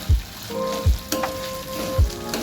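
Moong dal and ginger-garlic paste frying in a pan for home-style khichdi, a steady sizzle with a few sharp low knocks of a spoon or lid at regular intervals and a brief tonal clink.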